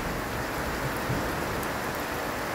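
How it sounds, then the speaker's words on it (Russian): Steady rain pours on a garden beside a forest, a constant close hiss of drops with no voices or other sounds. "Дождь. О, немного сбавил."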